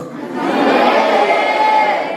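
A crowd at an Islamic religious lecture shouts takbir together in one sustained, loud collective cry that swells and holds for about two seconds.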